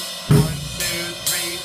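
A drum beat of cymbal, bass drum and snare drum plays alone in a short pattern: a strong first hit followed by two lighter hits with ringing cymbal wash.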